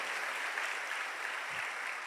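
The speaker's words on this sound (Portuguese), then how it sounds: "Você pode dar um aplauso bem forte pela vida de cada um deles." Church congregation applauding a group of couples, a steady wash of clapping from many hands with no pauses, fairly quiet and diffuse as if heard from across the room.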